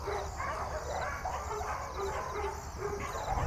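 Shelter dogs barking as they are let out to the run, a chorus of repeated yaps and barks, some distant and some nearer, continuing throughout over a noisy outdoor background.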